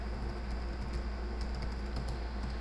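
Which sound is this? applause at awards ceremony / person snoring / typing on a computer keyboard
typing on a computer keyboard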